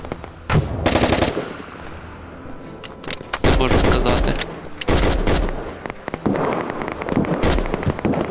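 Rapid bursts of machine gun fire in the online shooter Operation: Harsh Doorstop, set in a desert battle between US and Soviet forces, loud and close with several separate volleys and some shorter gaps.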